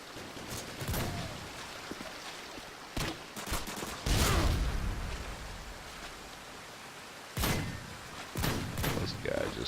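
Gunfire in Call of Duty Modern Warfare 2 comes as several sharp, separate bursts spread across the clip, loud against a steady hiss of game ambience.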